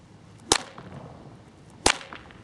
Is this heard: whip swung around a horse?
yes